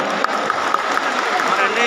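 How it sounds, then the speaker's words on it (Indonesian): Audience applause at a live band anniversary and halal bihalal event: steady rhythmic clapping from a crowd, loud and continuous, with voices mixed in. "Pak Bu, tepuk tangan biar ame jagoan kita."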